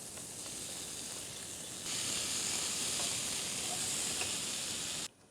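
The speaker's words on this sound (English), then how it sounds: "And to this now, I add my potatoes and the sauce that I prepared earlier." Potatoes and sauce for an aloo gobi cauliflower dish hit a hot pan, giving a steady broadband sizzle that swells louder partway through, then cuts off abruptly near the end.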